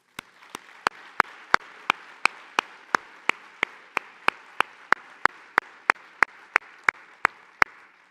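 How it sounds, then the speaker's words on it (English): An audience at a Cajun-Acadian WWII commemoration applauds a veteran, with sharp claps landing in a regular, even rhythm over a fainter bed of scattered clapping that continues throughout. "Please join me for a round of applause in his honor"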